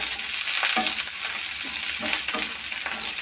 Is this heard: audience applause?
no